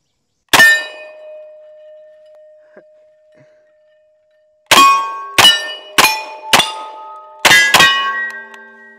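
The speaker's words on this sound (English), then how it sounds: "a 30 round magazine through the Thompson here and plink some of these steel targets right in front of me" M1 Thompson rounds hit steel targets at an outdoor range. One sharp ringing clang comes first, then after a pause five more clangs arrive in quick, uneven succession, each leaving a bright metallic ring. No gunshots are audible.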